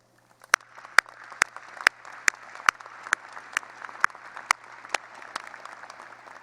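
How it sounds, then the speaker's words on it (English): Audience applause at a university graduation ceremony for engineering and computer science graduates, a steady wash of many hands clapping in a large hall with a few sharp, loud claps standing out near the microphone. "That's worth applause."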